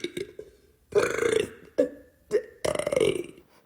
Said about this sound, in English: So, do you like her fart and burps?